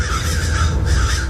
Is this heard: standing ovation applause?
no